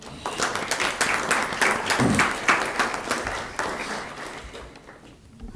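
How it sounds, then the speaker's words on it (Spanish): Audience applause fills a session hall as panelists are welcomed at a lecture on twenty-five years of monetary stability, a steady dense clapping that holds for several seconds and then thins out near the end. "comenzamos la sesión con una ronda de aplausos para los panelistas"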